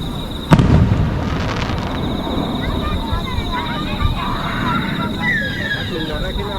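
Fireworks at the Tojo summer festival in Shobara, Hiroshima burst with one loud, close boom, then a long crackling, whistling tail of fizzing sparks and smaller pops, with people talking nearby.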